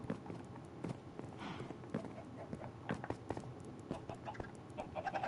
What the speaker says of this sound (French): je sais pas si t'entends, il y a un peu plus de poules qu'avant.